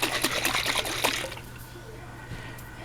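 Water and pasta sauce slosh and rattle inside a lidded cooking pot being shaken vigorously, a loud burst of liquid churning that stops abruptly and leaves quiet room tone.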